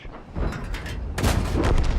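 A Comet tank's cannon fires in World of Tanks, giving a loud, close boom with a rumbling, noisy tail and a second heavy burst about a second later.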